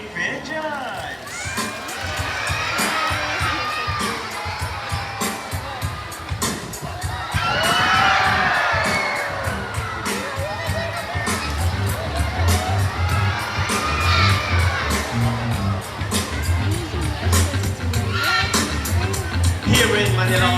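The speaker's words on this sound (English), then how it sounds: "A round of applause for our raptors, our chickens, and our homing pigeons!" Audience at a bird show featuring raptors, chickens and homing pigeons at Manila Ocean Park claps and cheers loudly, with children shouting and whooping in a sustained crowd roar mixed with voices throughout.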